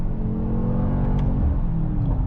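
Engine of a Mercedes AMG GT 63 S E Performance hybrid with a nine-speed MCT gearbox, revving in a deep continuous growl, loud and close, pitch shifting slightly midway.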